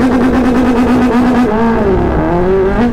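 A Kawasaki ZX-10R sport motorcycle engine holds a steady, loud, high rev on launch control, then the pitch shifts and swoops as the clutch is eased out, close by and with no talking.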